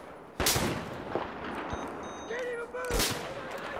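Desert Eagle pistol shots in the video game Battlefield 4, a few sharp, loud cracks spaced apart with some game sounds between them.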